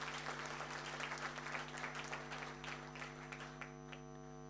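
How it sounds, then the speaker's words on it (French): Audience applause for a man called up at an event in Cameroon, steady dense clapping with a constant electrical hum underneath, fading slightly toward the end. "Applaudissez pour ce monsieur,"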